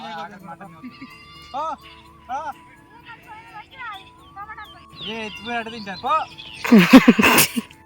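A young lamb being led to the flock bleats again and again in clear, wavering cries, close by, ending in a louder, rougher burst of noise.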